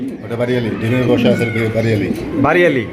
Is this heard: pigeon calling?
yes